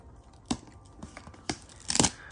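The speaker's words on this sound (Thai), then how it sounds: "เรามาแกะกล่องไปพร้อมกันเลยนะครับ" Cardboard shoe box for Nike Dunk Low Retro 2022 sneakers being opened, with a few sharp tearing and crinkling bursts of packaging spaced between quieter rustling, close and fairly soft.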